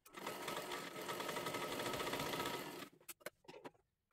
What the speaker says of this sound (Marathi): आता ह्याच्यावरती आपल्याला परत एकदा डबल शिलाई मारून घ्यायची आहे पूर्ण